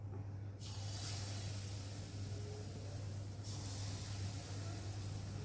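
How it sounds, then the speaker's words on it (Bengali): Banana fritters fry in hot oil in a kadai, a steady, faint hiss and bubbling sizzle running throughout with a low constant hum beneath, brightening slightly as new batter pieces drop in. "এখন আমি এই যে একে একে ছোট ছোট করে দিয়ে বড়াগুলো ভেজে নেব দেখো"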